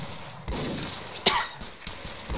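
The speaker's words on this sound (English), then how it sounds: "Who's coughing like that?" A single sharp cough sounds amid Arma 3 Vietnam-era military game chatter, quick and fairly close against a low background.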